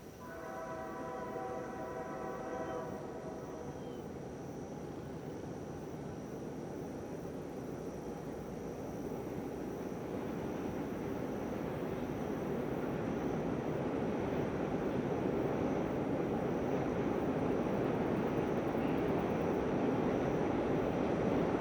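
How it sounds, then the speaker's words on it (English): A Norfolk Southern train rumbles past from a distance, its broad roar building steadily and staying loud to the end, with a brief horn blast at the start. "I then heard the train blast its horn"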